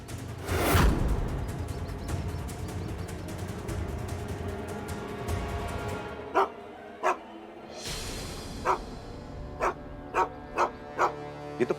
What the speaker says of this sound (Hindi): ये इस टेम्पो को देख के क्यों भौंक रहा है?